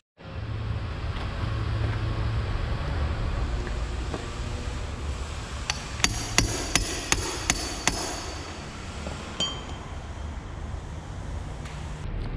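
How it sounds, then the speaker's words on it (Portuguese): An impact screwdriver is hammered to loosen the gearcase screws of an outboard motor: a quick run of about six sharp metallic taps and a couple of later knocks over steady broadband background noise. "uma chave daquelas de impacto, que você coloca aqui e martela atrás para ela ir soltando"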